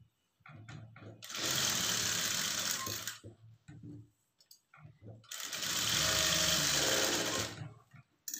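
A sewing machine stitches a blouse front in two sustained whirring bursts of about two seconds each, separated by a pause filled with quiet handling clicks, close and moderately loud.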